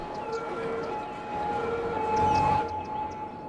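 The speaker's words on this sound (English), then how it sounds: "Where are the fire trucks going?" Fire truck siren in the city-building game Cities: Skylines, a steady wailing tone running through the whole stretch over a busy city hum, swelling slightly louder near the middle.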